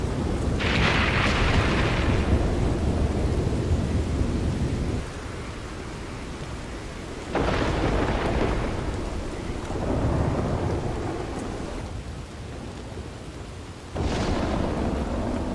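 Lightning strikes up in the mountains of Red Dead Redemption 2 bring repeated loud thunder: several heavy cracks and booming rumbles that roll away between strikes over steady rain, close and powerful, with no speech.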